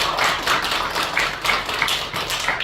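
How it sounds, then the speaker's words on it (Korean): Congregation applause during a church worship service: a steady, dense wash of many hands clapping throughout, fairly close and even in loudness, with no voices over it. "오늘 우리 이렇게 참여하신 분들께 다시 한번 박수 한번 올려드리겠습니다"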